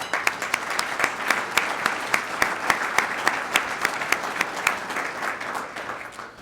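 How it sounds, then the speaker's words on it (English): At a Rotary Club luncheon, the audience gives event sponsors a steady round of applause, with close individual claps standing out rhythmically over the crowd. "If everyone could please just give a round of applause for all the"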